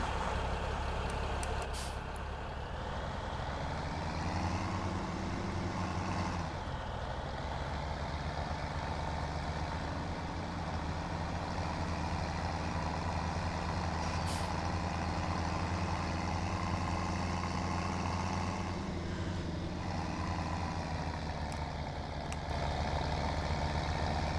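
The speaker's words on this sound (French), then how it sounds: "Je vais juste reprendre le tracteur." A tractor engine in a farming video game drones steadily at a low pitch, with a brief hiss and a shift in tone partway through, running alone without talk.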